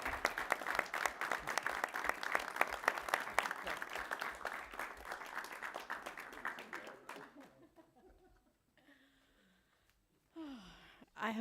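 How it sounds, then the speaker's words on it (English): Sustained applause from the audience at a board of education meeting honoring a retiring staff member, dense steady clapping for about seven seconds that thins out and fades, followed by quiet room noise and faint murmurs. "So please join me in applauding Mr. Paul DeVito as he transitions to his retirement."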